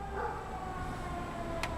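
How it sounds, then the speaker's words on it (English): An ambulance siren passing at a distance, a faint wavering wail under steady low background rumble, with a short sharp click near the end. "Oh, I hear an ambulance."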